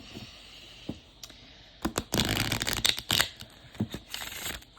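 Tarot cards on slippery cardstock shuffled in quick riffling bursts, papery flutters and snaps clustered in the middle, with quieter taps before and after.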